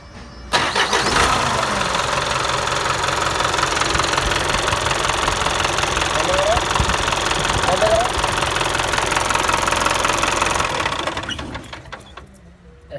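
Old engine cranked by a starter motor on an earth-digging dumper, a loud steady grinding, rattling drone running about ten seconds before winding down and stopping.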